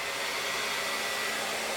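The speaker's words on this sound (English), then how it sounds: "So we're going to take our hair dryer," A hair dryer blows steadily at close range, a constant airy whoosh with no pauses and no voices.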